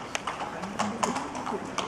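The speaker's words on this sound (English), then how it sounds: "We'll get the horses in as well." Horses' hooves clip-clop in a steady, fairly close rhythm, mixed with faint background talk from people around them.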